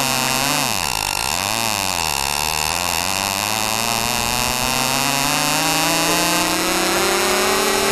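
Loud, droning engine of a NASCAR stock car, its pitch dipping and rising and then climbing steadily as it accelerates, heard from inside the car with no talk over it.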